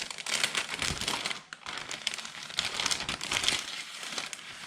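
A paper die-cut house shape being pulled from an envelope, close crinkling and rustling paper with uneven bursts and a short pause partway through, no voices.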